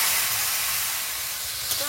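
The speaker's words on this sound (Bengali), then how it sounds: "এবার সবজিটা দিয়ে দেব।" Vegetables dropped into hot oil in a wok already seasoned with a dried red chilli, nigella seeds and chopped garlic, giving a steady, loud broadband sizzle and hiss that runs unbroken throughout, with no talk.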